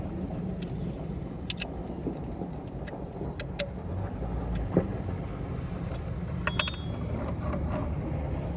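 Bolts being tightened on an electric WesMar bow thruster during a boat rebuild: scattered metallic clicks and ratcheting ticks over a low background rumble, with a brief rattle near the end.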